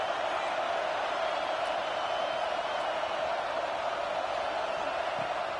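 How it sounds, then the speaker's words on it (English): A home crowd at a football game in a video game gives a continuous, dense roar of cheering at steady volume throughout. "Man, this crowd really affecting the football game."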